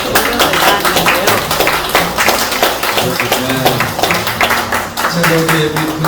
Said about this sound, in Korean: 박수 한번 주기